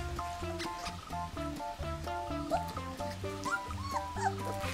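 Labrador puppies, both cream-coloured and black, whimper and yip in a busy overlapping chorus of high, squeaky cries, close and continuous throughout.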